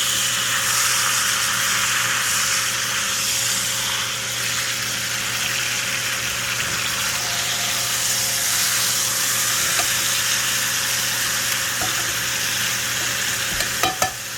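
Beef roast searing in a hot pan after being turned over, a steady loud sizzle and crackle of fat that holds throughout, ending with a few sharp clinks of a utensil against the pan.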